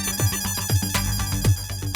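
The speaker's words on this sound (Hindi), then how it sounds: "जेठा भाई का फोन इतनी रात को, कोई इमरजेंसी तो नहीं?" A phone ringtone plays at night, a repeating electronic melody with regular tonal pulses about every half second, fairly loud and close, with no talking.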